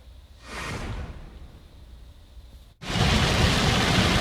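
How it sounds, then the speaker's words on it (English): Heavy rain pours down during a storm over Dane County, a steady broadband hiss that swells, briefly cuts out, then returns louder and dense with no voices. "As heavy rains poured onto Dane County August 20th"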